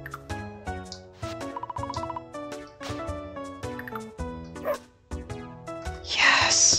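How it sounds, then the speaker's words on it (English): Cartoonish dog yips and barks from the farming video game Fields of Mistria, several short rhythmic yaps over bright, tonal game music, with a burst of sparkly effect noise at the end. "Yes! You can pet the dog."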